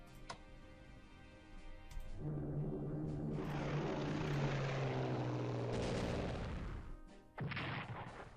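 Propeller planes flying in the World War II strategy game Strategic Command: World at War, a rising engine drone swelling in the middle and fading out, followed by a brief second burst near the end.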